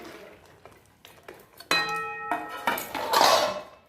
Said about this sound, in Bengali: ভিজিয়ে রাখা ডালটাকে কড়াইতে আমি ঢেলে নিচ্ছি।